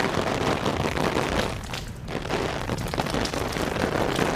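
Rain pours steadily, with water coming in through a roof during a downpour, a dense continuous hiss with a brief lull midway.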